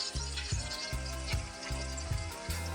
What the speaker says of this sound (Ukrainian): Поки наша філейка жариться